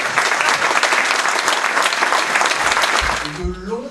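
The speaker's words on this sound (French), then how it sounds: "Je pense qu'on peut les applaudir." An audience at a kindergarten inauguration applauds Monsieur and Madame Bartagnan, loud, dense clapping that thins out toward the end as a voice begins speaking over it.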